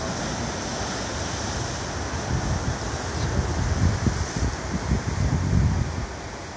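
Large ocean surf, waves around 25 feet high, rolls and crashes in a continuous broadband roar with wind noise on the microphone, swelling louder in the second half as breakers hit one after another.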